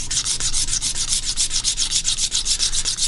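Rapid rhythmic scraping across a stained quilted maple wood guitar top, a steady back-and-forth rasp repeating several times per second, close and loud with no talking.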